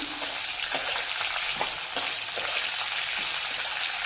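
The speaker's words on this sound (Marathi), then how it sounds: "आता व्यवस्थित कांदा मिक्स करून घ्यायचा" Onions fry over medium heat in a pan, a steady close sizzle broken by several soft scraping stirs at irregular intervals, with no talking.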